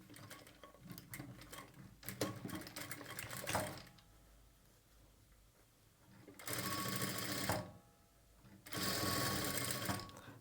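An electric sewing machine stitches lace onto a sleeve, running in three separate loud whirring bursts with quieter fabric handling and clicks between them.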